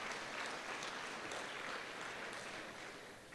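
Steady applause from a school board awards audience, continuous clapping filling the room for several seconds without pause, fairly loud and close.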